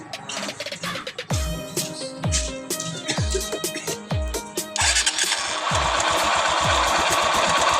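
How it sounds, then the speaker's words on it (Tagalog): A running Honda TMX Supremo motorcycle engine with a rapid, irregular metallic ticking from a faulty cam chain tensioner riding over its idle, then the revs rise into a steadier, louder drone. "So problema niya may tumitik-tik na. Parang tumatalon-talon na ingay."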